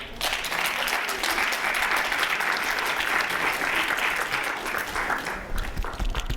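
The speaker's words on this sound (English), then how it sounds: "So this is double applause, one for our sponsors and one for you for being in the room and your stamina" Sustained applause from a conference plenary audience, thick continuous clapping filling the room for several seconds.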